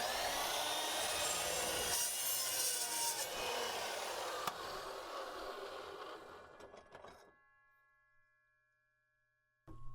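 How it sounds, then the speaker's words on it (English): Larger carbide-tooth cold cut saw slicing through metal, a loud harsh grinding rasp for several seconds that fades as the blade spins down to near silence, no speech. "So I'm going to make a cut with this larger saw."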